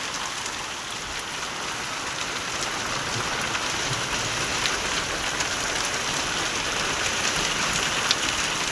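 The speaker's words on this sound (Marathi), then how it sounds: "मोठा पाऊस आहे ते, मोठा पाऊस आला रे" Heavy rain falls hard and without pause in a rural village yard during a spring storm, a thick, even hiss with scattered heavier drops.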